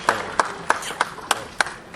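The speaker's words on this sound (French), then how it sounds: "Est-ce que vous pouvez applaudir très très fort" Six sharp, evenly spaced hand claps ring out in a slow rhythm at a live event, close and distinct with brief quiet gaps between them.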